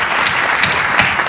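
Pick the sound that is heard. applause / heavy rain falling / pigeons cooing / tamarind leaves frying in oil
applause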